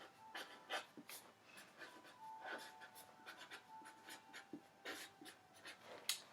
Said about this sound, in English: First thing that we always do is put our name at the top of our paper.